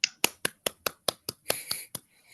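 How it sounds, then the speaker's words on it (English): A few Zoom attendees clap for an author at a reading and Q&A, about ten sharp, evenly spaced claps over two seconds, close and fairly quiet, ending in a brief overlapping flurry. "If you want to unmute yourself, give a little clap."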